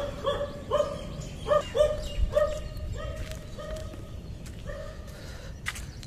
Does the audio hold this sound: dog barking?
yes